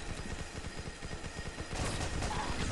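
Continuous video-game gunfire from Pixel Gun 3D, a dense rapid rattle of shots that grows louder partway through, with no talk over it.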